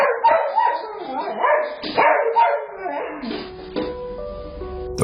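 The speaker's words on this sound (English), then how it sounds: "the family dog just goes nuts." A family dog at home barks and whimpers in wild, excited bursts, some yips mixed in, close and loud, with a tonal whine near the end.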